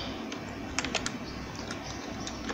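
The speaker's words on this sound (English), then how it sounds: "then you type MD" Keys on a computer keyboard are tapped at a desk while entering spreadsheet data, giving a light, uneven scatter of soft clicks over a faint steady room hum, with no voices.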